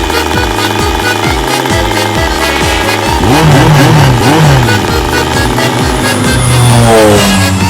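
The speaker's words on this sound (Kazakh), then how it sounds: "Ана мотоцикл кімдікі?" A motorcycle engine revs loudly and close by, its pitch rising and falling through several throttle blips over steady rhythmic idling, with no voices heard.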